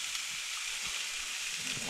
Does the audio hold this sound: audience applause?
no